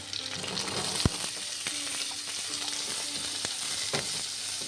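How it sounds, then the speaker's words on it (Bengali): Radish pieces and potatoes fry together in oil with a continuous close sizzle, punctuated by a few sharp knocks and scrapes of a spatula stirring the pan. "মূলোগুলো একটু ভেজে নেবো অল্প করে।"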